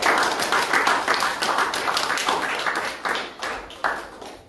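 A church congregation claps along in quick, rhythmic unison, a close and lively run of hand claps that swells and eases in waves.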